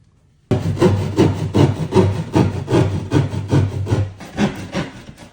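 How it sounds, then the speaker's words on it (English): A utility knife saws through drywall to cut a speaker opening in a media room wall, producing rhythmic rasping strokes, roughly two per second, loud and close after a brief quiet start, with no talking. "I like to feel what I'm cutting. That's why I go with the old school knife."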